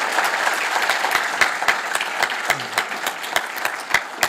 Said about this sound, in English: So how about if we give them a big round of applause?